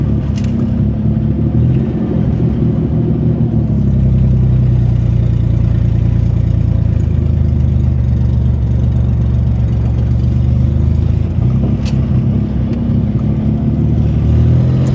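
An old car with drum brakes rolls around a parking lot, its engine a steady close rumble that swells slightly as it moves, with a faint squeak near the end.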